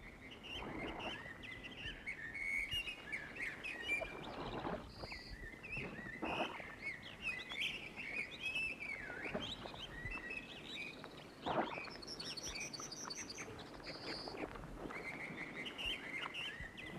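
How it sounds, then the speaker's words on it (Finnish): Assorted wild birds sing and chirp along a remote Finnish lakeside route near Posio, with steady outdoor ambience, occasional paddle or water sounds, and repeated high twittering calls at moderate distance. "kaiken maailman linnut laulaa tässä pitkin matkani varrella"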